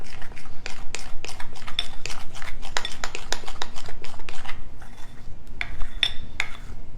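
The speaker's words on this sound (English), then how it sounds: "So I'm just using a spoon and I'm stirring it together." A spoon stirring mayonnaise biscuit dough in a bowl produces repeated scraping clinks and soft rubbing strokes, close and steady, with a couple of brighter metallic taps near the end.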